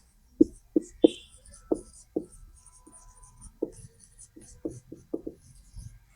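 A pen scratches across paper in short, separate strokes, close and crisp, with irregular pauses between bursts of writing.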